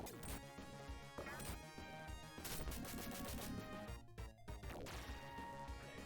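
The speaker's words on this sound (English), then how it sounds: "let's go ahead and cluster bomb these guys" Cluster bomb attack in the Phantasy Star IV video game: a dense run of crashing, thwacking impacts and rapid explosive bursts over a continuous game music bed, loud and sustained, with a short dip near the end.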